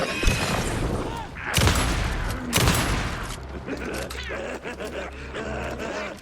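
Pump shotgun blasts in the game Alan Wake 2, two loud, close booming shots a second apart, followed by mechanical clatter and groaning enemy sounds, with a voice talking over parts of it.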